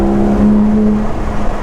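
A Porsche GT3 RS with an MBRP exhaust holds a loud, steady droning engine note close by, a sustained hum that wavers slightly as it fades near the end.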